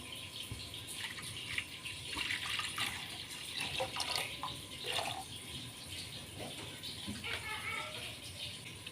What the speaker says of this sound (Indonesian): Kita masukkan airnya dulu.